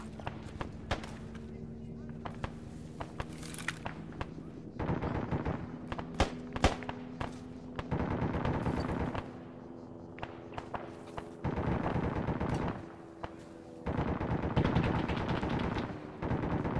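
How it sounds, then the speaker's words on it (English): Enemy gunfire in the video game Arma 3, with bursts of automatic fire and sharp single shots coming in uneven clusters across the scene, some loud and close, mixed with shouted voices. "Enemy fire!"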